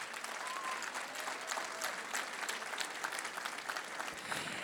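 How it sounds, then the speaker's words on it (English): Steady applause from an audience at a community gathering, a dense, fairly distant patter of many hands clapping without a break. "You can clap for that."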